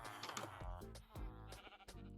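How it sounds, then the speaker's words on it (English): Sheep in a Minecraft survival world bleat in a few short, nasal calls repeating over the span, close and fairly clear with a steady background layer behind them. "Through here is going to be my sheep."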